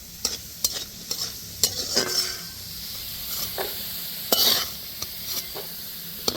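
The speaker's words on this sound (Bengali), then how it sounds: "আবারও ভাল করে আলুগুলো ভেজে নিয়েছি" Potato pieces sizzle in hot oil with a little salt in a pan, a steady hissing fry broken by sharp spatula taps and scrapes at irregular intervals, close and clear with no talk.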